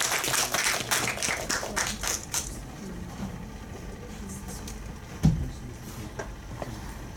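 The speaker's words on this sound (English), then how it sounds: "Let's give a round of applause to Mr." Audience applause for a speaker at a basic income talk, a dense burst of clapping that fades after a couple of seconds into quiet room noise with a single knock near the end.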